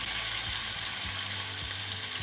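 Chicken malai boti sticks shallow frying in oil in a pan, giving a steady bright sizzle throughout, with a few soft low bumps as pieces shift. No one speaks.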